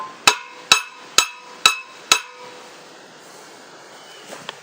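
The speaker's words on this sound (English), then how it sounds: "I'll just tap the axle from the other side a little bit" Five sharp metallic hammer strikes tap an axle on a homemade three-point cultipacker, evenly spaced and ringing briefly, followed by quiet room tone and a faint knock near the end.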